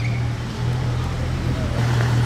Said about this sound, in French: c'est un beau convoi de Porsche mes amis